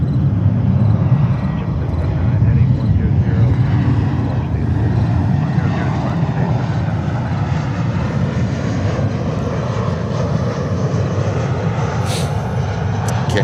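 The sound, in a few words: Delta Boeing 767 departing JFK to San Francisco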